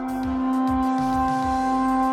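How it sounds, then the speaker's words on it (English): The battle call emote from the video game Fortnite plays as a sustained bright electronic tone over a pulsing, stepped low rhythm of about six beats, clean and alone. "The battle call emote sounds like this."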